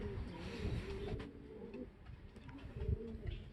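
A homing pigeon just back home after four months lost coos softly in low, rolling phrases, close but quiet, with faint rustling around it.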